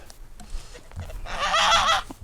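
A goose gives a loud, raspy honk near the end, following a few quieter bumps and rustles close by.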